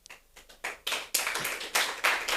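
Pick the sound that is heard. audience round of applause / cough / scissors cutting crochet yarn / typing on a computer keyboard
audience round of applause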